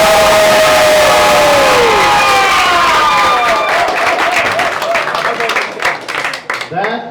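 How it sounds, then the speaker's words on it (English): A large crowd at a Fourth of July cake walk roars and cheers loudly, swelling into clapping and shouts that fill the space, with a voice briefly rising over the din at the start. "That is a roar from the crowd if I've ever heard one."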